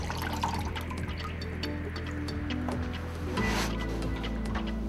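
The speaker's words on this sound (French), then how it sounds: "laissez égoutter l'eau par l'inclinaison des laits sur le bac" Water dripping and trickling from folded, soaked pre-pasted wallpaper lengths (Premium Aqua Express) tilted over a soaking tray, a steady wet patter of small drips with a low background hum.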